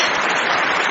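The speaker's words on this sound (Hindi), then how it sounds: "मुझे तालियों की गड़गड़ाहट सुनाई दी" Thunderous applause from an audience makes a dense, loud, continuous wash of clapping, close and alone.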